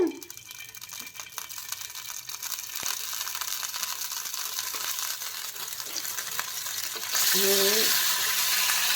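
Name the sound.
Schezwan sauce frying in oil in a pan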